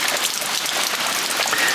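Rain falling on a cottage roof, a dense, even hiss of drops pattering steadily, close and moderately loud, with no voices.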